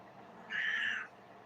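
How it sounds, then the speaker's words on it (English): A cat meows once somewhere in the distance, a faint, drawn-out cry lasting about half a second over a quiet background. "there goes the cat meowing in the distance"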